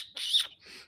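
A single bird in a forest in Nagano, Japan, gives a brief high chirp or squeak, close and clear against near silence, lasting under a second.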